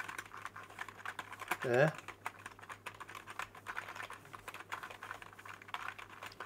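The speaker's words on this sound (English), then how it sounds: "let's have a quick listen to the keys. They're not that quiet." Clicky typing on a 60% wireless gaming keyboard, rapid close-up key presses in an irregular patter, with a short spoken word partway through.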